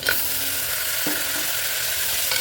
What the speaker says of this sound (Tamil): சுத்தம் பண்ணி வச்சுருந்து சிக்கனை போட்டு நல்லா ஃப்ரை பண்ணுறாங்க